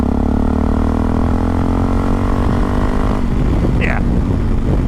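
A Yamaha Tenere 660 motorcycle accelerating from about 40 to 60, its engine note droning loud and close with rising pitch, then dropping into rougher wind-buffeted roar as it shifts.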